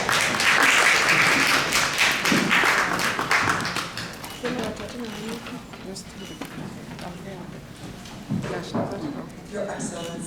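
Audience applause at a United Nations International Day of Peace event with first ladies, a loud burst of clapping in the opening seconds that fades away, with voices talking over it afterward.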